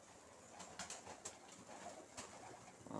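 Pigeons coo repeatedly on a rooftop in Dagestan, soft rounded calls at moderate distance over a steady outdoor background hiss, no voices present.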